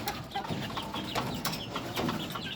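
Chicks and young chickens cluck and peep together while being fed, a busy continuous chatter of many birds close by, with no talking.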